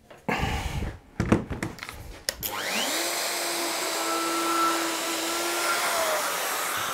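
A power saw cuts wood on a Trend MFT jig: a few loud bursts and knocks, then a steady motor whine that runs close and loud to the end.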